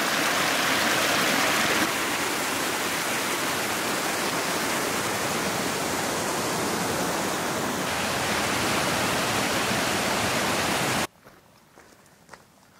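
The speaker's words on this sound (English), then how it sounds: "Fast moving over rocks," A fast snowmelt mountain stream rushes over rocks near the Ben Nevis path, a loud, close, continuous roar of water that cuts off abruptly near the end, leaving faint quiet handling noises.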